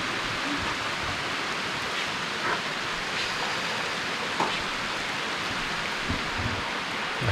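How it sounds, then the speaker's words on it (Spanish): Steady rain falls outdoors in Amapá, Brazil, a dense, even hiss of drops on surfaces with a few faint knocks, continuous and moderately loud with no voices. "Pero está lloviendo tranquilo."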